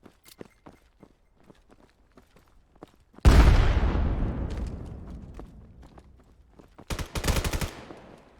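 Gunfire rings out in a Crest League grand finals match as teams fight late in the round: a few faint footsteps and taps, then one loud, close burst that decays slowly, followed by a rapid cluster of shots near the end.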